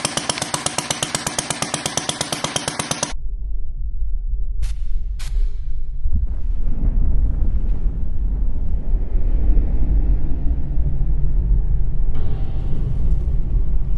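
A combustion engine runs loudly and steadily, opening with a rapid mechanical chatter before settling into a dense, continuous rumble that fills the whole stretch, with a few sharp clicks and a brighter hiss joining near the end.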